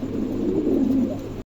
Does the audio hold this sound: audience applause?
no